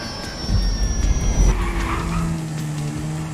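A private plane crashes down in a video game, heard as a loud engine roar with a high whine and screeching tones that sweep and fade into a rumbling, sustained drone.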